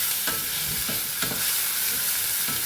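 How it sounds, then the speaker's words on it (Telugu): Chopped tomatoes sizzle and fry in a hot steel pan, a constant loud crackle broken by several soft stirring scrapes, with no talking. "టమాటాలు వేస్తున్నాము."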